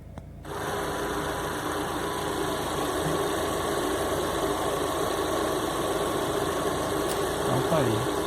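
A Chevrolet Onix engine idles steadily with a persistent whirring, ticking undertone that marks a strange noise, holding a constant close drone for the whole span.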